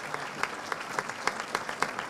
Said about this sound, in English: we give Matt Crossan a great round of applause